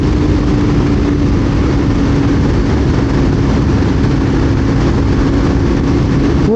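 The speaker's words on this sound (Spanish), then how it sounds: "voy a todo lo que da la moto, no tengo más acelerador." A KTM Duke 200 motorcycle engine at full throttle in sixth gear near 9,000 RPM, a loud, continuous roar holding steady at high revs, with constant rushing wind noise and no letup.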